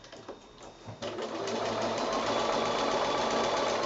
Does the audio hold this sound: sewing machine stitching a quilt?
yes